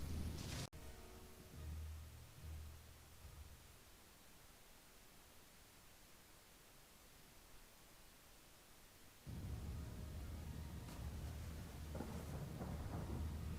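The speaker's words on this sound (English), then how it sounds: "The storm rages." A raging storm at sea brings thunder and heavy wind-driven rain. A sharp crack opens it, rumbling follows, then a quieter lull before the roar of the storm swells back loud and dense.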